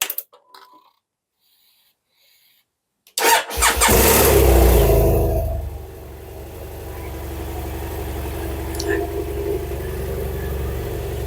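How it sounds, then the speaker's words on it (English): A 2009 BMW F800GS motorcycle engine starts after a few seconds of near silence with a sudden loud burst. It flares briefly, then settles into a steady, close idle. "let's fire up the bike and make sure we got a working headlight."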